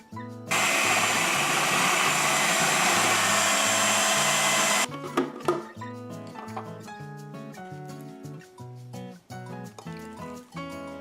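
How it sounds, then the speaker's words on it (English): Green tomatoes being sliced by machine for a pickled preserve: a loud, steady, close whir runs for about four seconds and then cuts off, leaving quieter uneven clatter. "now I'm gonna slice them and salt them."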